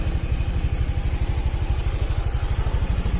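A Honda Vario 110 scooter engine runs with a weak, dropping battery, putting out a steady, fast low putter close by with no voices.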